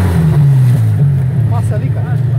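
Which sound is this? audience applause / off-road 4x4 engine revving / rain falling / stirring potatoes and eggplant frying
off-road 4x4 engine revving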